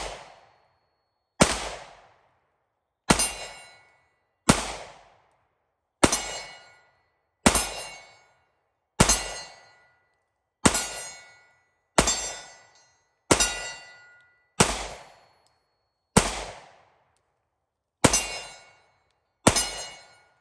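PSA Dagger pistols fired one at a time, a sharp, loud crack roughly every second and a half, each trailing off with a short ringing echo, about a dozen shots in all.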